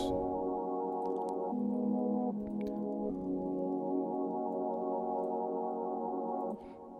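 The Analog Assemble pad from the Poison synth in FL Studio plays a slow progression of sustained chords for an amapiano track, steady and full, changing every second or so with no voices.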